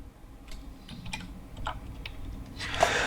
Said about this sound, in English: See, how would I type that in?